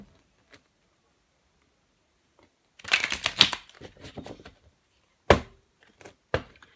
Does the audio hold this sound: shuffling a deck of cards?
yes